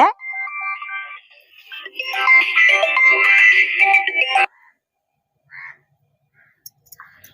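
A phone ringtone plays a bright electronic melody for about four seconds, then cuts off, leaving near silence with a few faint clicks.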